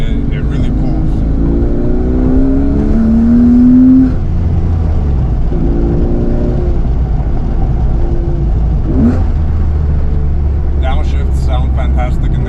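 A 2003 Porsche 911 C4S accelerates hard, its engine note climbing steadily through the revs with an upshift along the way, heard from inside the car at close range and loud throughout.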